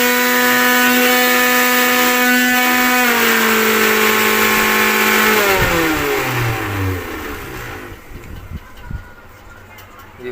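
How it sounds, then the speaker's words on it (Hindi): A Maharaja Whiteline juicer mixer grinder with a motor noise fault runs loudly and steadily, its whine dropping in pitch in steps as it winds down and fades toward the end. "इस मिक्सी में कितना साउंड आ रहा है।"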